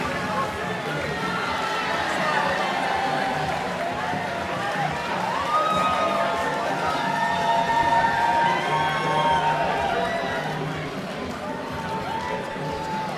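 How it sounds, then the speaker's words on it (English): A boxing event crowd cheers, shouts and whoops continuously after the fight, with a lively, dense roar of many voices and some applause mixed in throughout, steady and fairly loud. "another round of applause for these fantastic boxers this evening"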